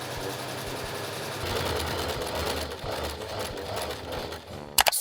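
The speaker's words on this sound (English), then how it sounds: "I just stitch all the pieces together" A sewing machine stitches Christmas stocking pieces together in one continuous close run, its rapid needle chatter and motor hum steady throughout, ending with a few sharp clicks.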